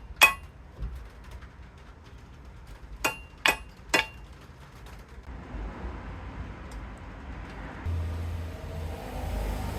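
Hammer strikes on a metal number plate bracket for a Chinese MR150 125cc racing minibike being converted for road use: one sharp clang, then three spaced metallic blows close by over quiet outdoor background noise.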